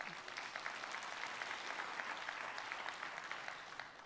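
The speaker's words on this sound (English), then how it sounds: "yeah, you can clap." An audience at a church technology conference breaks into steady applause, a dense wash of many hands clapping at a distance that holds evenly throughout.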